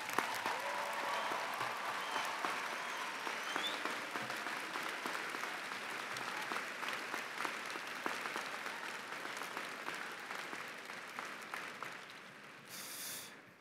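Commencement audience applauding faculty and staff at a university graduation ceremony, a long, even wash of clapping from a large crowd heard at a distance, fading near the end.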